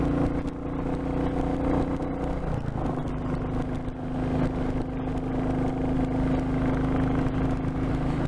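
A red Royal Enfield Classic Chrome motorcycle on the move, rucksacks strapped on the back, gives a steady, loud engine drone with wind rush, dipping briefly in pitch partway through before settling back to an even hum.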